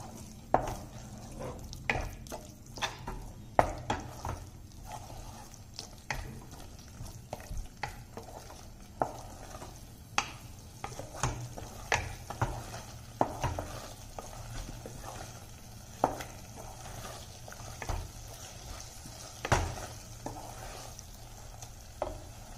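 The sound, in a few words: sautéing curd with onion masala for meal maker biryani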